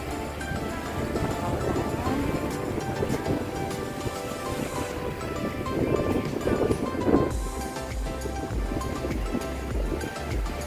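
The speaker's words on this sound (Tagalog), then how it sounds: "sa lakas ng alon" Strong sea waves surge on a windy day at the shore, a steady broadband wash with wind buffeting the microphone and a brief louder swell midway, no voices.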